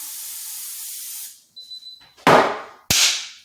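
Cooking oil spray hits an air fryer rack in two short, loud hissing bursts close by, each sharp at the start and then trailing off, after a quieter stretch of steady hiss.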